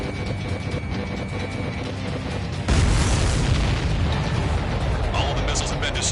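Missiles exploding in a flight video game: a continuous dense roar of jet and combat noise, swelling into a louder booming burst midway that rumbles on to the end.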